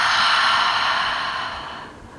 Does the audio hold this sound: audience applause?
no